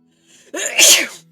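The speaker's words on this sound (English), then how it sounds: "I'm gonna sneeze." A single close, loud human sneeze, a short breathy intake building into a sharp explosive burst that quickly trails off.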